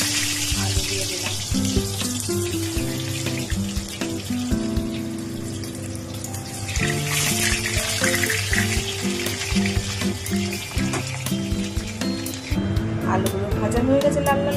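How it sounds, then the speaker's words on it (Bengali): Cut potatoes fry in hot mustard oil, giving a steady, continuous sizzle and crackle that runs throughout under louder background music. "আলুগুলো ভাজা হয়ে গেছে লাল লাল করে।"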